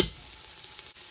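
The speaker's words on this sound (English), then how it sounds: "So we've only been sauteing for 5 minutes, if that." Food sautéing in a Power QuickPot electric pressure cooker for chicken and rice soup, a short steady sizzle heard close up with a faint stirring scrape and no voices.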